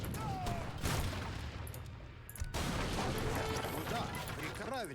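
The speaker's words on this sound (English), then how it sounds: "our Falconets will be breaking through these gates in relatively decent time" Falconet artillery pounds a fortified gate in Age of Empires III during the 1582 Chuvash Cape historical battle, dense battle noise with repeated cannon booms and clashing, continuous and loud throughout.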